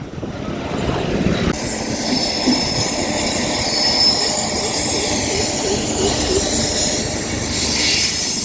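A train rolls past close by, a loud continuous rumble with high metallic wheel squeals running throughout.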